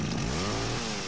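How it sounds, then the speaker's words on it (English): A chainsaw revs steadily in the Dead Rising video game, producing a loud continuous buzzing engine drone that stays strong and unbroken for about a second with no speech over it. "Make Frank angry and jump his chainsaw"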